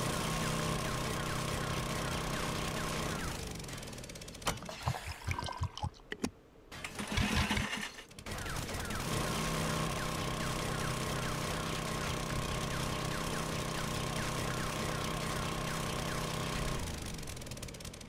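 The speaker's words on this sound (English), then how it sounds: "I love this auger." A power auger grinding through ground blocks in the 7 Days to Die video game, a steady mechanical drone with layered harmonic whine that runs continuously, breaks off briefly for a few clunks, then resumes and holds.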